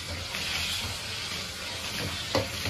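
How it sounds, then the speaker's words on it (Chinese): Diced fatty and lean pork stir-fries in peppercorn-scented oil in a wok, a continuous sizzle with a sharp scrape of the spatula near the end. "放入肥瘦肉丁，"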